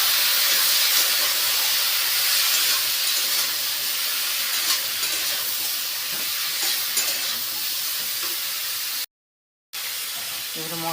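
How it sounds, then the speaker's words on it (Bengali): Ridge gourd pieces hit a hot pan of turmeric and fried semolina, giving a loud, steady hiss and sizzle that runs almost unbroken, with a brief drop to silence near the end. "এগুলো ঝিঙেগুলো দিয়ে দিচ্ছি"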